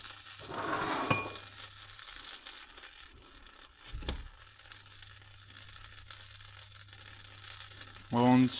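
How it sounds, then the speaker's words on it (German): Butter melting in a frying pan after boiled potatoes are drained: a soft, continuous sizzle and crackle runs throughout, close but fairly quiet, with a low steady hum underneath and a few clinks of utensils. "Zerlasse jetzt die Butter in der Pfanne."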